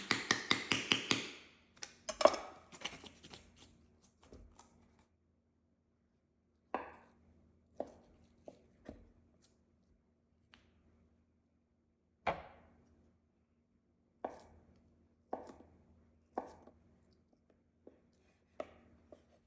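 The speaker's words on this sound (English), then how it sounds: "Slice up the Spam" A knife slices through a block of Spam on a cutting board for hot pot. A quick flurry of chops is followed by sparse, sharp single taps against the board, close and clear in a quiet kitchen.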